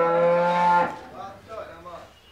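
A Holstein Friesian dairy cow at a cattle market gives one loud, close, drawn-out moo that breaks off after under a second, followed by faint background noise.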